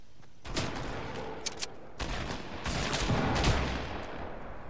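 Fortnite gunfire in a solo match: a cluster of sharp shots and booms, several in quick succession, over a steady wash of game noise, with no voices heard.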